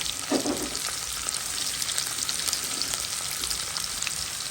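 Onions sizzle steadily in hot oil in a pan, a dense continuous crackle with a brief stir near the start, close and loud, no talking.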